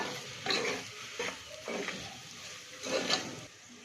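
A spoon stirs turmeric and salt into a chana-soya masala in a metal pan with several distinct close scraping strokes over a light sizzle.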